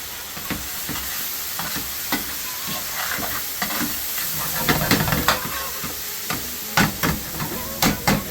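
A madras curry base with charred chili fries in a pan for a smoky Indian restaurant-style vegetable madras, a continuous hissing sizzle with frequent sharp scrapes and clatters of a stirring utensil, loud and close, with no talk.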